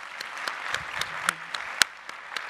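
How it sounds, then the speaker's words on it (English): A conference audience claps after an invited talk, a short burst of sparse, distinct handclaps at moderate volume in a hall. "Leave her a round of applause."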